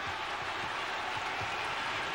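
Sellout crowd of more than 10,000 in a college basketball arena, many on their feet, sending up a steady, dense roar of cheering and applause that holds at full volume throughout.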